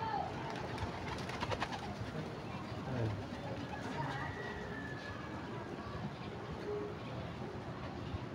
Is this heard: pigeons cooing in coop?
yes